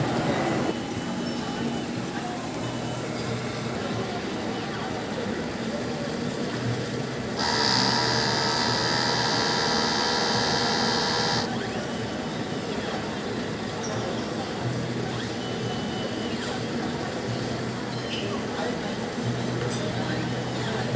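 A DTF printer runs its print-head cleaning cycle, giving a steady mechanical whir and pump hum for about four seconds in the middle, with a constant lower machine drone before and after.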